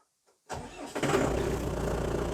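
A T-40 tractor engine cranks briefly after near silence, catches within half a second and settles into a loud, steady rough idle close by.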